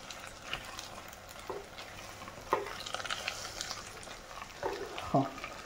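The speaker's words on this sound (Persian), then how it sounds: "من الان اسفناجم رو با پیاز و گوشت و ادویه دارم تفت میدم" Spinach, onion, meat and spices sauté in a pan with a soft, steady sizzle, broken by a few scraping stirs of a utensil against the pan, all fairly quiet and close.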